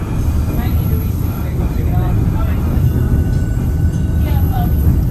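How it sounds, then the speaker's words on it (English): A second train rolls past in Skagway with a steady low rumble that holds loud throughout, while faint voices murmur in the background. "Well, here comes the other train."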